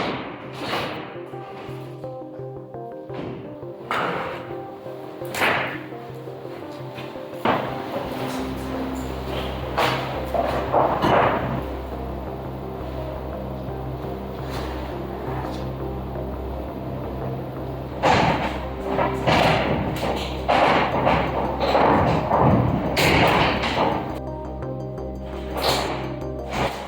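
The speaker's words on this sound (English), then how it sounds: "The nasty noise you hear is the epoxy remnants catching and scraping the soft and smooth wood" Harsh scraping and catching sounds in irregular bursts as epoxy remnants scrape across the wood of a yacht hull, with sharp knocks and thumps over a low steady rumble, close by.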